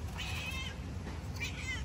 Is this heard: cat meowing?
yes